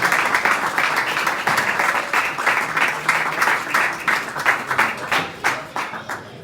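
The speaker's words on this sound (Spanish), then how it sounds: "Un aplauso para él" Applause from an audience at an award ceremony for a science prize, dense and steady for several seconds with rapid overlapping claps throughout.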